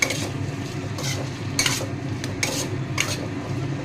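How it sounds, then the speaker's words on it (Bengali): Potatoes with salt are stirred in a pan for jeera aloo, with scraping and clinking strokes of a spoon against the pan in a few distinct bursts over a low, steady background hum. "নুনটা দিয়ে একটু নাড়াচাড়া করে নেবে।"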